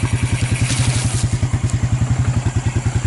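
Suzuki KingQuad 300 ATV engine idling close by after a warm-up, a loud steady low thumping putter with an even rapid pulse throughout.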